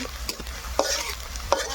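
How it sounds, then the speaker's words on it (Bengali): Oil sizzles steadily in a pan of frying onions and green chillies while a utensil scrapes and stirs a few times, sharp clacks over the constant frying hiss. "এখানে হচ্ছে মুরগির মাংস রান্না করা হবে তার জন্য এপাশে পেঁয়াজ ভাজা হয়ে গেছে"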